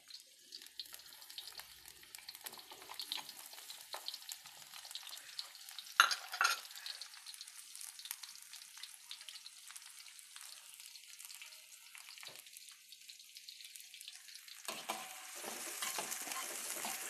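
Shallots and then garlic sauté in a pan, giving a faint, steady sizzle with light stirring scrapes throughout that grows a little louder near the end.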